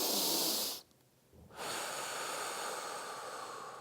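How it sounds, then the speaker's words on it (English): A person breathes in a guided relaxation exercise during a baseball mental skills session: a sharp double sniff in through the nose, a brief pause, then a long, slow, hissing exhale through thinly pursed lips, close and clear. "It's a double inhale through the nose, long exhale with my mouth, thinly pursed lips."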